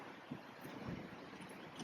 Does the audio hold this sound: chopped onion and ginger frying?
no